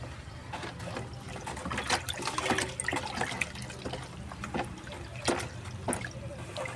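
Banana-based liquid fertilizer for flowering plants is stirred up close, giving irregular wet sloshes and splashy trickles that rise and fall in short bursts with no talking.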